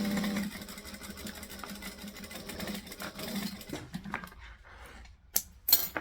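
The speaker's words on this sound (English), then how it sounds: "I'm going to stitch and back stitch." A sewing machine stitches in a fast, steady mechanical rattle, then stops and starts again for a back stitch, ending with a few sharp clicks and knocks, heard up close with no talking.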